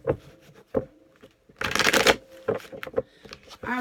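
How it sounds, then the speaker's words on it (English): Tarot cards being shuffled by hand in short riffling bursts, the loudest a dense flurry about midway, with soft taps and card slaps between, close and clear with no talking. "a couple more shuffles and we'll hop right into this reading"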